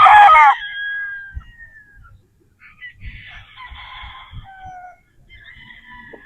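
A Boston Roundhead gamefowl rooster lets out one loud, close crow at the start, followed by quieter scattered clucks and bird calls.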